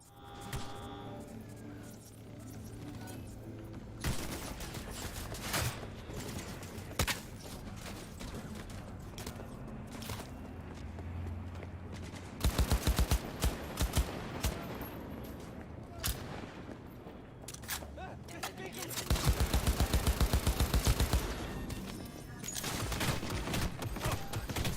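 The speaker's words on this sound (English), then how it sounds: "Turrets and stuff in the city will actually start shooting at you" City turrets and gang members open fire in a free-roam firefight in Cyberpunk 2077. Sustained bursts of gunfire and rapid volleys continue throughout, under a low electronic hum, with louder automatic bursts near the middle and again toward the end.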